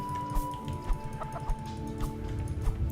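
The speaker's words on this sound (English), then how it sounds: "Chickens. Chickens." Chickens in a video game cluck in short, quiet, scattered bursts over a low background hum of game ambience.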